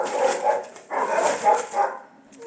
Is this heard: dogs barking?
yes